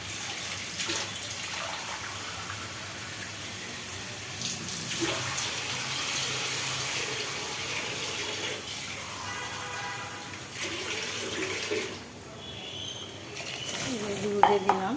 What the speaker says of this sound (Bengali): এখন পরিমাণ মতো ঝুল দিয়ে দিব।